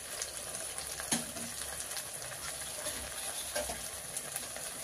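A cheese mixture sizzling in a pan, a constant close frying hiss with a few soft scrapes and knocks as it is stirred.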